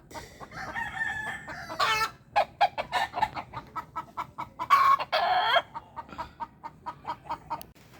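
Chickens cluck in a rapid, uneven series of short calls, close by, with a couple of longer, louder squawks partway through, as a hen approaches a perch.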